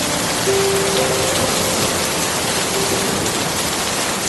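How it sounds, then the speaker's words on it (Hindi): Heavy rain pours steadily in a dense, even hiss with no pauses, loud and close throughout, with no voices. "अचानक मौसम बिगड़ गया और देखते ही देखते तेज बारिश शुरू हो गया"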